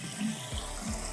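Water pours steadily into a container being filled toward three gallons, a continuous close splashing stream with a couple of brief low thumps, no talking.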